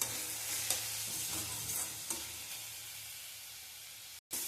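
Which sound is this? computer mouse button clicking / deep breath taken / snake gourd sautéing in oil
snake gourd sautéing in oil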